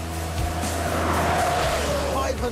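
A Mercedes G 63 AMG 6x6 with a 5.5-litre twin-turbo V8 accelerates, its deep engine roar rising steadily in pitch, loud and close, with someone talking over it.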